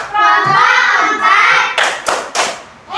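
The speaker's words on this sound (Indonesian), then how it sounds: "Kita tepuk hebat untuk kelompok 4." A classroom of children does the 'tepuk hebat' patterned clap for group 4, first a busy patter of hands together, then a few sharp separated claps near the end, with children's voices faintly mixed in.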